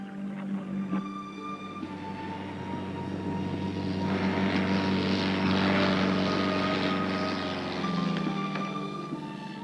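A Cessna light aircraft's propeller engine drones steadily in flight, a continuous, fairly loud hum with a slight swell in the middle and no voices over it.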